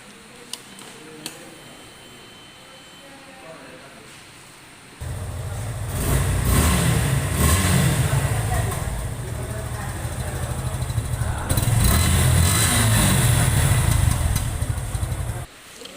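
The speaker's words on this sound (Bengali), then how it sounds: "ভিউয়ার্স আপনারা বাইকটির সাউন্ড কোয়ালিটি দেখলেন" A 2025 Suzuki Gixxer SF FI ABS motorcycle, in fresh showroom condition, starts from quiet and settles into a steady, loud idle with a strong low rumble, rising in a brief rev near the end before cutting off.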